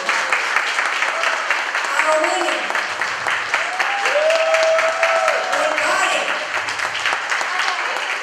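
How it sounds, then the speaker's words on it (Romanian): An audience claps steadily throughout while a voice speaks over the applause. "vreau să aud aplauze pentru fiecare etnie"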